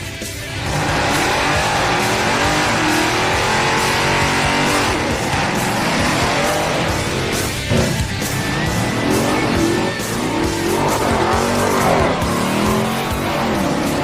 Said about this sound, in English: you can make excellent tire smoke with this thing